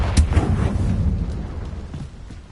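The Confringo fire spell from the video game Hogwarts Legacy going off as a deep booming blast with a rumbling tail that fades over about two seconds, with no talking.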